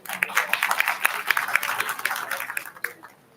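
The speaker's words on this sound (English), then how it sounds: "give a huge round of applause for these speakers" Applause from an audience at a college alumni meet, dense clapping that swells and then tapers off into quiet near the end.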